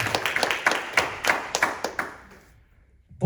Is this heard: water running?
no